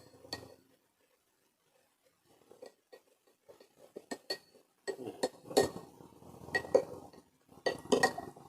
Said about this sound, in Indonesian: Kita aduk sampai tercampur.